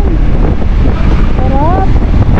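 Strong wind buffets the microphone with a loud rumbling roar, and voices call out briefly over it.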